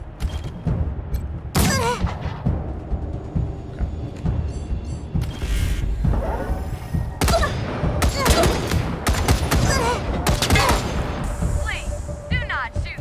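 Turrets firing guns in the video game Wasteland 3, sharp bursts of gunfire and booming impacts in rapid clusters across the scene, loud and close, with someone talking between shots.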